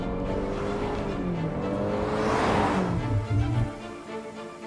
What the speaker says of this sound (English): I'm gonna speed up. We're gonna do a bit of a brake test again.